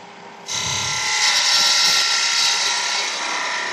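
A spindle gouge cuts wood on a spinning lathe, a steady whirring, scraping hiss that starts abruptly and carries on evenly for several seconds without speech.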